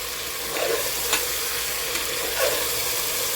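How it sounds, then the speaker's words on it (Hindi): Mutton, about one kilo, frying with ginger garlic paste for Kashmiri rogan josh: a continuous hissing sizzle with a few soft stirring scrapes, close and steady, no talking. "अदरक लहसुन के साथ भूनना है हमें।"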